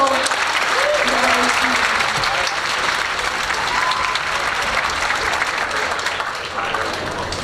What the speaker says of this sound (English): can we have another round of applause for our beautiful...